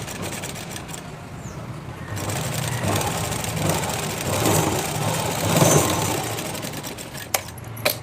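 Sewing machine stitching a blouse hook edge, steady mechanical whirring running close and continuous through most of the stretch with a few sharp clicks near the end.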